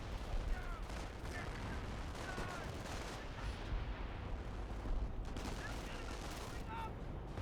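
Dense, continuous battle din from a Company of Heroes match, with a Calliope rocket barrage pounding amid steady gunfire and explosions; a voice talks over the whole stretch.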